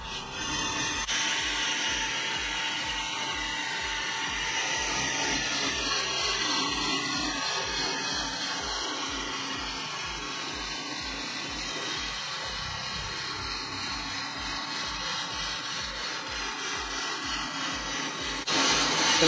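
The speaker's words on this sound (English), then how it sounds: "Once we get about a half an inch into the brake rotor, we can take our silencing clamp and put it on the brake" A BL505 brake lathe cuts a brake rotor with a continuous grinding, whirring drone and an even rapid mechanical pulse beneath it, loud and steady the whole time without a break.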